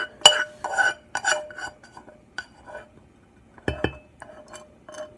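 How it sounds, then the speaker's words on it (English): A metal spoon scraping and clinking inside a container to get out the last of homemade vegan honey, in a series of short, sharp scrapes and taps with pauses between them, close and fairly quiet. "we about to get this spoon and scrape this rest out"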